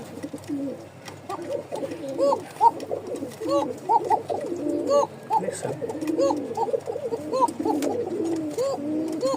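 A pair of Rajshahi Giribaz racer pigeons coo close by in repeated rolling, throaty phrases that overlap and continue throughout, with faint background sounds.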